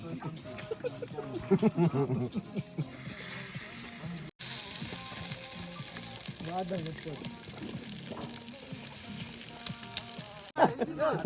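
Fish frying in a pan with a steady hissing sizzle and crackle, mostly under nearby voices talking, with the sizzle rising louder and clearer during pauses in speech.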